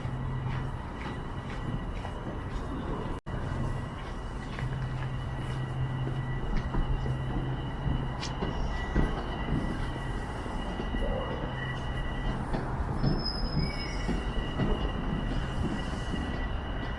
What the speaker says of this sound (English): That train is heading south.